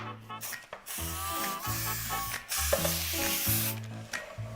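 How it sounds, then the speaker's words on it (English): Cooking spray hissing from an aerosol can onto the sides of a baking pan, several short bursts and longer sprays in a row, close and fairly loud with no talking. "Now you want to spray the sides with some cooking spray."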